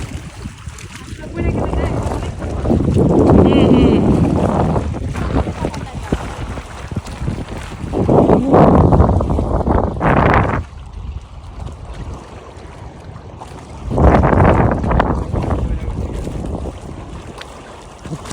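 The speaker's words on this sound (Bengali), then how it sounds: "একটা জায়গায় এসেছি প্রচুর বাতাস" Strong wind by the sea, heavy gusts buffeting the microphone in loud surges that rise and fall, with people talking intermittently.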